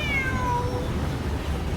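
A cat meows in Genshin Impact: a single clear, high-pitched meow that slides downward, close and distinct over a low steady background hum.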